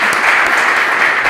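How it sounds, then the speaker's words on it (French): Audience at a quiz game event claps in a brief, steady burst of applause at fairly loud level, with no talking over it. "Alors, merci beaucoup d'applaudir Rutens."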